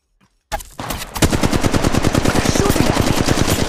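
Gunfire in Apex Legends Mobile at Kings Canyon, where one shot is followed by a sustained rapid automatic burst of loud, evenly spaced shots close by.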